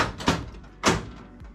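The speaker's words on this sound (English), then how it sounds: "Close the door." The cabinet door of an IGT S2000 slot machine swings closed, with two close, solid thuds about half a second apart and a short rattle after.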